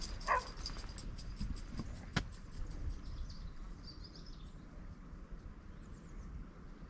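Two small pups on a cliff path walk near Whitehead, County Antrim, with faint yelps and whimpers early on under steady wind and outdoor ambience, plus some distant bird calls.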